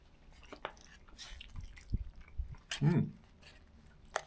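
Close-up chewing of Dutch operational ration pack food with peppers, sweet corn and beans: soft wet bites and squishy mouth sounds in a short irregular run, one louder moist chomp near the end, with faint background noise.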